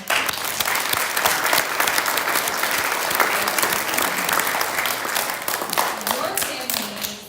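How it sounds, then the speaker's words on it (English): An assembly audience at a summer academy applauds families with steady, dense clapping throughout, loud and sustained before tapering slightly at the end. "applause to your families for getting in here."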